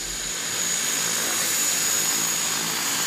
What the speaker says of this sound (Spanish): Apenas una avioneta aterriza,